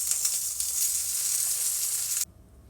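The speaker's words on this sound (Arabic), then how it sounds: "في نفس الطاسه اللي احنا عملنا فيها الشيء بتاعنا ده هننزل سندوتشات" Sandwiches fry in a hot pan, producing a loud, steady, close sizzle with a few crackling pops that cuts off abruptly near the end, leaving quiet.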